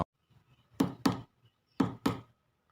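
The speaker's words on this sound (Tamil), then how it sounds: "நேற்றுக்கு ராத்திரி கதவு தட்டுறதும் சத்தம் கேடுது இன்றைக்கும் கேட்குது" Knocking on a door at night: two separate pairs of sharp raps, each pair quick and close together, fairly near and clear against a quiet room with no talking.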